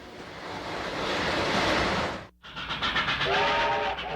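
Lionel toy train running on a model railroad layout, a steady rumbling roll that cuts out briefly, then returns with a repeated whistle tooting over the clatter; no voices.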